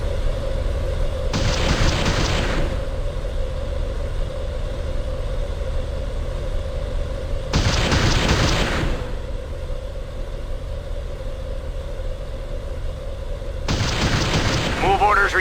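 Bombardment explosions in the real-time strategy game Ground Control, three heavy booming blasts spaced several seconds apart over a constant low engine rumble and hum.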